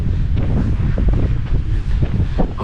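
Strong wind at Las Salinas beach, Ibiza, buffeting the microphone with a constant low roar and gusty rumbling, no voices.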